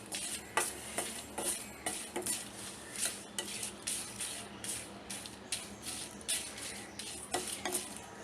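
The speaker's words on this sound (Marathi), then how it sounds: "आता मी ह्यामध्ये मिरच्या टाकते, 4 मिरच्या मी घेतल्या आहे, ते जरा भाजून घ्यायचे आहे।" Four Byadgi chilies roasting in a pan, with rhythmic scraping and stirring strokes against the metal and a light, faint sizzle underneath.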